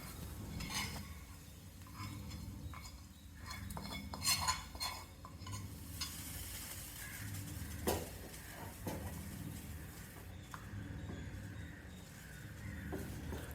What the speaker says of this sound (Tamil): வெங்காயம் நல்லா செவக்கிற வரைக்கும் வதக்கிட்டு எல்லாத்தையும் மாவோடு சேர்த்து நல்லா கலந்துடணும்